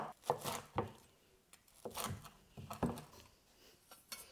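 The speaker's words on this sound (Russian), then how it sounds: "Блинчик нужно разрезать на несколько частей." A knife taps and cuts through a Thai banana pancake in a pan, a series of soft, close chops and scrapes at an uneven rhythm, fairly quiet.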